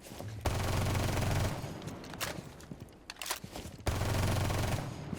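Automatic gunfire at the shooting range in the video game Rainbow Six Siege: two long sustained bursts separated by a quieter stretch of scattered clicks and footsteps, with no talking.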